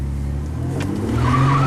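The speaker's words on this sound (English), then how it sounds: "she'll spin the tire" Car tire spinning on a road near a Ford being repaired: a loud, close engine roar and rumble that builds into a rising, steady tire squeal toward the end.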